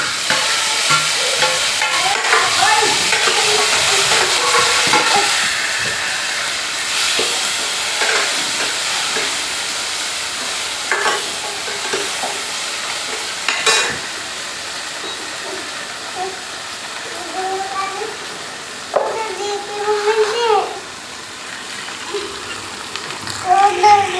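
Tomato goes into onions frying in a pan, setting off a loud, continuous sizzle and hiss that eases somewhat after the first few seconds, with stirring scrapes and someone speaking now and then over the cooking.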